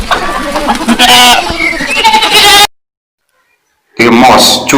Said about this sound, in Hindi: बकरी, इसके साउंड को ब्लीट बोलते हैं